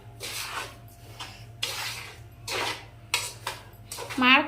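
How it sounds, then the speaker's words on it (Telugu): A metal spoon scrapes and taps around a pan as semolina and dry coconut roast on the stove, in intermittent close strokes over a low steady hum, with some talking. "మాడకుండా అయితే ఒక సిమ్లో పెట్టుకుని తిప్పుకుంటూనే ఉండాలండి"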